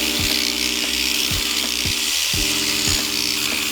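A power scrubber brush whirs steadily while cleaning an Acura NSX brake caliper with degreaser, a constant motorized buzz with a faint rhythmic knocking and a brief dip in pitch midway.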